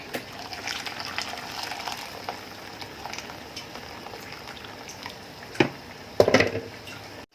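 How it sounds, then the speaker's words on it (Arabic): Water pours steadily into a pot with a soft, continuous splashing rush, ending in a few louder sloshes near the end. "هبتدي ازود ميه سخنه"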